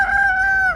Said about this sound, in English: I got a rooster up there. I thought it was a hen, and he's learning how to crow.